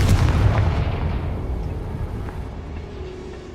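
A Confringo spell from Hogwarts Legacy sets off a single heavy blast that rolls out into a long, fading rumble.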